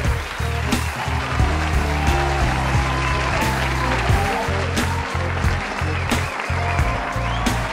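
A church congregation claps to welcome a guest apostle and his family at a special service, steady applause running throughout over loud organ-like music with sustained low notes and shifting chords.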